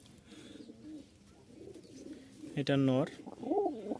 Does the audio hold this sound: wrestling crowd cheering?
no